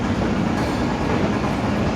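The Awam Express passenger train pulls out of platform 5 at Lahore railway station, a loud, steady rumble of rolling carriages with rhythmic wheel clatter, close by and continuous.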